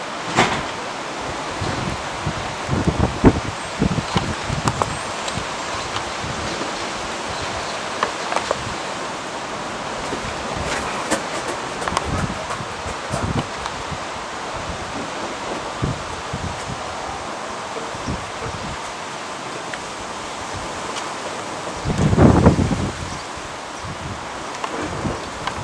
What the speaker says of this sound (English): It's the movement of wind.